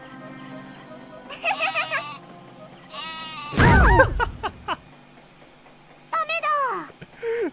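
Cartoonish sheep bleats from the Worms Armageddon video game, wavering calls in several bursts mixed with a loud crash or explosion and other game effects, with a person talking at times.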